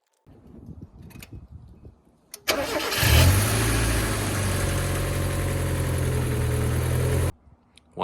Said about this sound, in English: We can take off the jack stands one by one, and then we'll give it a start and make sure there's no leaks from there.